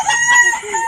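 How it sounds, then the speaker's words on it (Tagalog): A rooster crows up close on a poultry farm, loud and drawn out, with clucks from many chickens mixed in under it. "Iba't ibang klase ng manok ang nakita namin"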